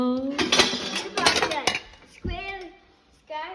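Metal pots, a pressure cooker and an idli steamer clatter and clink together in a kitchen, with a series of close, loud knocks and scrapes followed by a couple of ringing metallic taps.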